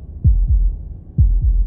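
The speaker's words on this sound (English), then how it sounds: "That was the sound of a heartbeat" Heartbeat sound effect from the game Slay the Princess: two pairs of deep, muffled lub-dub thumps, loud and close, separated by a short pause, with no talking.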